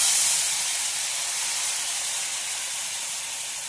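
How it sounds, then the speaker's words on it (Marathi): Masala of turmeric, red chilli powder and tomato puree with gram flour frying in oil, a loud, steady sizzling hiss that eases slightly over several seconds. "आता एक थोडंसं चांगलं भाजून घ्यायचं की तेल सुटू द्यायचं या मसाल्याला."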